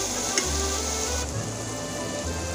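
A spoon stirs food frying in a pan while Bengali-style egg and potato chops are being made, giving a soft, brief sizzle with light scraping that sits close and fairly quiet throughout.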